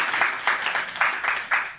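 A class of young children in a primary school English lesson applauding together, a short burst of fairly loud rhythmic clapping in uneven waves.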